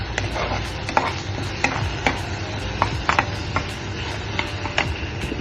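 Masala for rajma is stirred and sautéed in a pan, with soft sizzling under regular sharp taps and scrapes of a spoon against the pan.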